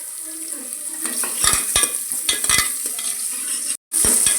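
Curry leaves and onion fry in hot oil for a vegetable salna, a bright continuous sizzle close by, broken by several scraping stirs of a spoon against the pan.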